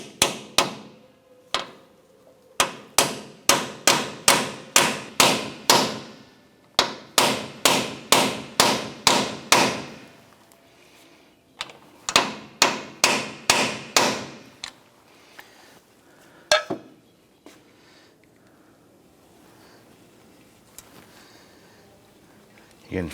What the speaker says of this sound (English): Let's go ahead and use our bearing driver and tap this in.